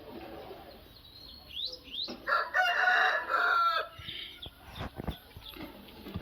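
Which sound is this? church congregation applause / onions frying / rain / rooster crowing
rooster crowing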